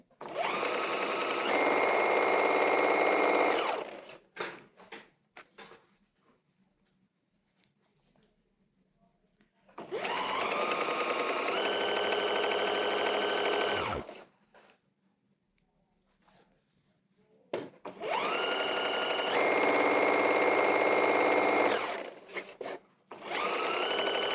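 A sewing machine stitches fabric for a table runner in three loud, steady bursts of several seconds each, separated by quiet pauses with faint handling clicks.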